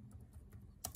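Keystrokes on a computer keyboard, a few soft taps followed by a sharper louder pair near the end, close and alone with no talk.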